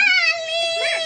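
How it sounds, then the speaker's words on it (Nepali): A cat gives a single drawn-out meow, close and fairly loud, with a tonal wavering cry that ends abruptly, with no other sounds around it. "ढाडे बिरालो"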